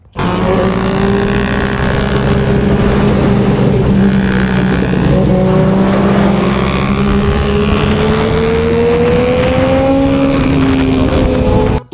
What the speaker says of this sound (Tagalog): Siyempre, traffic dito, kaya nga nakamotor kami para makasingit na sa traffic.